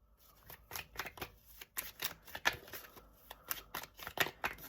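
Tarot cards being handled and drawn from a deck, a run of close, crisp papery flicks and slides in irregular bursts, with no talking.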